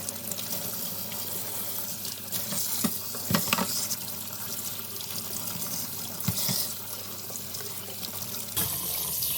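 Catfish are rinsed under plain running tap water in a steady, close stream, with a few brief splashes and clunks against the sink and no voices.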